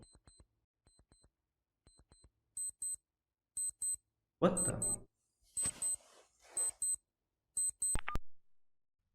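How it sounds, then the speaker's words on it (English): A handheld communicator gives out repeated short electronic beeps in steady bursts. A voice speaks briefly over them in surprise. "What's that alarm?"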